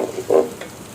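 Rice being stirred with ginger-garlic paste in a hot pan for biryani: a short, close scrape and soft sizzle swelling briefly, then settling into faint frying noise.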